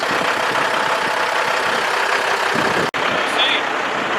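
Pickup truck leaking antifreeze, engine idling with a steady broadband rumble and hiss, loud and close, with a brief cut near the end.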